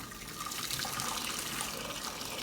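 Water pours into a pan for vegetable noodles in a steady, soft hissing stream for a couple of seconds, fairly faint, with no talking.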